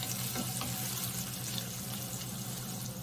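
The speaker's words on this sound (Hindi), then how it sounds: "प्याज को अच्छा सा लाइट फ्राई" Chopped onions and halved green chillies lightly frying in a pan for dal pulao give a steady, close hissing sizzle with no pauses.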